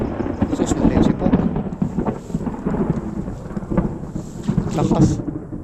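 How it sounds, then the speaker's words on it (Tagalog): Thunder rumbles during a heavy rainstorm in a rural area, with steady rain noise throughout and low rolling booms rising and fading across the clip. "Kulog at kidlat."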